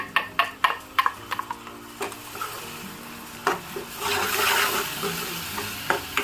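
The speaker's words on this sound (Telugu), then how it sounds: "కొత్తిమీర పేస్ట్ వేసిన తర్వాత ఇది వేగేంత వరకు వేయించుకున్నాం కదా" Coriander, ginger, garlic and green chili paste fries in a pan, a spoon scraping and stirring in sharp knocks before a soft sizzle rises, close and without talk.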